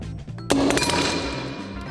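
An egg smashed with a jug: a single sharp, loud crack about halfway in, followed by a ringing, slowly fading decay, with no talking.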